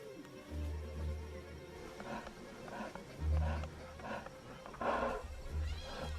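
A lion roars in the wild: deep, rumbling calls come in several heavy bursts at a moderate distance, with a voice narrating over them.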